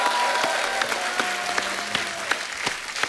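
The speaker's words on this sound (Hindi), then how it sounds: "जोरदार तालियां हो जाए एक बार" Studio audience applause on a Hindi talk show, a dense burst of many hands clapping close and loud, with sharper individual claps punctuating it over a faint background tone.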